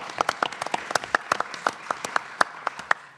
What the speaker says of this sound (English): give me a round of applause for our candidates